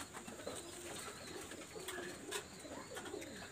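Pigeons coo softly and steadily, quality breeding pigeons offered for sale, their low throaty calls repeating at a moderate distance over a faint, busy background.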